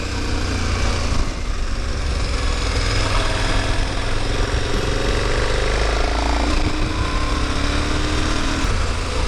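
A Harley-Davidson Electra Glide motorcycle engine rumbles steadily and loudly on a winding mountain road, a continuous low drone with wind noise, and a voice speaks faintly underneath.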